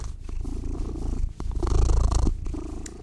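A house cat purrs steadily on a bed, close to the microphone, a low rumbling purr with a faint rhythmic pulse that swells louder midway, with no voices.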